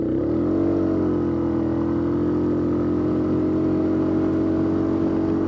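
A Suzuki KingQuad 750 ATV in high range, 2-wheel drive, climbs to full throttle, its engine note rising briefly and then holding a loud, steady, close drone.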